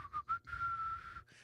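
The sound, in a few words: person whistling a jingle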